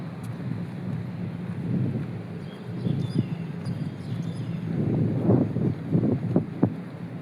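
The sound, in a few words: wind blowing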